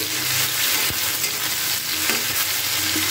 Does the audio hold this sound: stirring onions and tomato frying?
yes